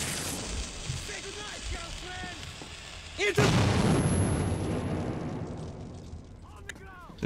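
A sudden heavy explosion in the video game Metro 2033 bursts in with a sharp onset, then rolls into a long, loud rumbling decay; a voice talks before the blast and briefly near its end.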